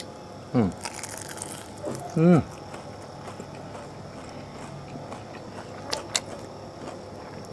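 Two crisp crunches of someone biting into a fried beef salad lumpia spring roll, a couple of seconds apart, with brief voiced sounds around the bites and a quiet background between them.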